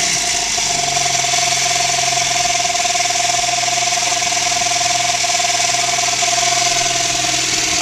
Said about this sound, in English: Would you like to pop the hood and start the engine?